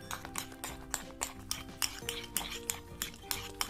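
A utensil stirs slime mixed with activators in a bowl, making a steady, rhythmic run of close clinks and scrapes against the container, fairly quiet but regular.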